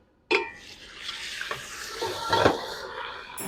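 Golden onions fry in a pot with ginger and garlic added for mutton biryani. A sizzle starts abruptly, with scraping stir strokes and a few light clinks of utensil on metal, moderately close.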